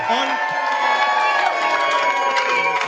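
A live audience at a business event in Sydney cheers and whoops loudly, a dense, steady roar of many voices that holds for the whole stretch without letting up.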